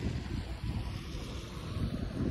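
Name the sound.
river water flowing strongly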